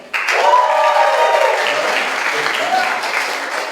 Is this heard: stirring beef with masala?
no